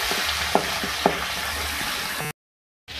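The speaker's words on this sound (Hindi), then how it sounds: "अब मैं इसमें ऐड करूंगी अदरक लहसुन का पेस्ट, 1 खाने का चमचा। तो फ्राई करें।" Ginger garlic paste sizzles and fries in a pan with a dense, steady crackle and a couple of stirring clinks. The sizzle cuts off abruptly, then returns briefly.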